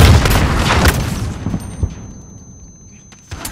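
Gunfire rattles in Call of Duty: Modern Warfare, with a flashbang grenade going off: a dense, loud burst of shots and booms at first, then scattered cracks fading over a few seconds.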